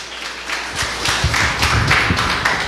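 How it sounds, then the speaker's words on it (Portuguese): Church congregation clapping in praise to Jesus, a dense broad patter of many hands building from quiet into steady, fairly loud applause with a few stronger thumps. "Aplauda o Senhor Jesus. Olha, aplaudir esse Deus maravilhoso."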